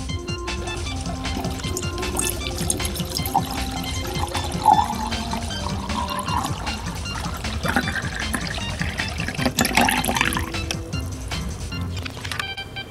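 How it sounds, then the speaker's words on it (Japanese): Water is poured into a glass jar for a snow globe, a continuous trickling pour with small splashes over a busy background, close and moderately loud. "まずは瓶の中にお水を注いでいきます。"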